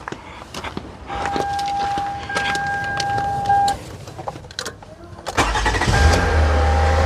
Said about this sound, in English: Now we're gonna try to start the vehicle.